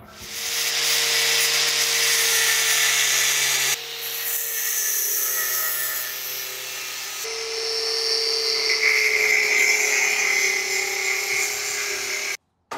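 A saw cuts through a Ford Bronco steering column being shortened for a Crown Victoria swap, giving a loud, steady grinding whine that runs almost continuously for about twelve seconds with a short break near four seconds and an abrupt stop at the end.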